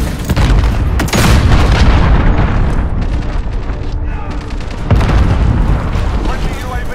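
A cruise missile strike in Call of Duty Modern Warfare lands as heavy, rumbling explosions, with a big boom early and another near the end, over continuous battle noise and talk.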